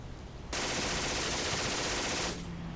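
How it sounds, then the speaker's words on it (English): Machine gun fire in the video game The Troop, a sustained burst of rapid, dense shots lasting nearly two seconds before cutting off, loud against a quieter background. "Oh, they have another machine gun."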